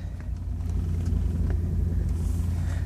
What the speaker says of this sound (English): So let's go ahead and start the car up.